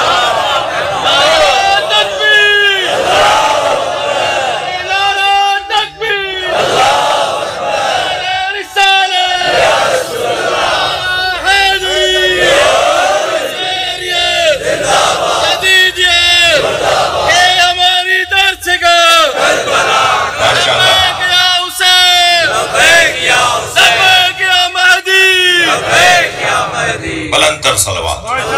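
A large religious congregation loudly chanting salawat in unison, a roaring crowd of voices rising and falling in about a dozen repeated waves over half a minute.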